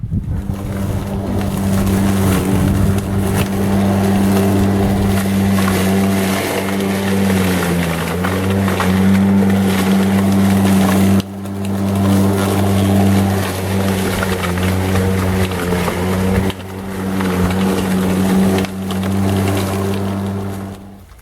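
An Intertool WT-1201 lawn mower runs with a loud, steady motor hum and whir that carries on continuously, dipping briefly a couple of times before picking back up.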